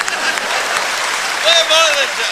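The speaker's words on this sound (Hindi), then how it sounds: "इधर से तालियां कम बज रही हैं" An audience applauds at a Hindi poetry recital, a steady dense patter of clapping that stays fairly loud and even throughout, with a faint tonal sound briefly rising over it near the end.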